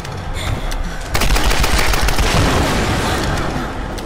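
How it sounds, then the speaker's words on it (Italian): Explosion and gunfire in the game Tomb Raider Definitive Edition on PS4, a sudden loud burst followed by sustained crackling blasts and rumble, with a faint voice underneath. "C'è stata un'esplosione, c'è stata un'esplosione."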